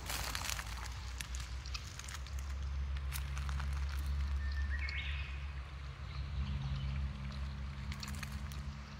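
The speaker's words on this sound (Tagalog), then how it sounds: "Ang sarap pakinggan ng tubig. Mini falls." Water from a small seasonal waterfall beside a hiking trail rushes and pours in a steady, close wash, with faint bird calls and brief high chirps over the continuous flow.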